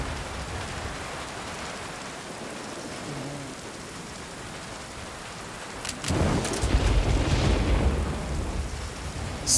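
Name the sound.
rain and thunderstorm in a video game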